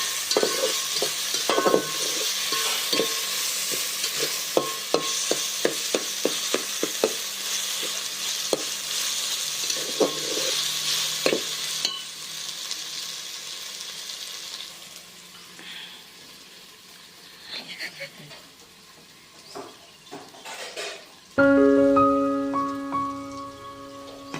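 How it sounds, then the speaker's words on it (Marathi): Samosas frying in oil in a pan, a loud steady sizzle with frequent clicks and stirring taps for about twenty seconds, then a short burst of tonal clatter near the end. "फ्राय करायचं"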